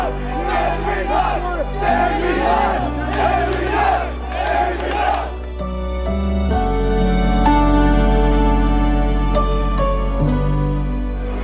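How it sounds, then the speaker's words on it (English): A large protest crowd at the Shrine of Remembrance in Melbourne cheers and whoops loudly, a dense roar of many voices that swells and holds, with shouted calls rising over the mass. "The police were taking a knee and everyone was cheering."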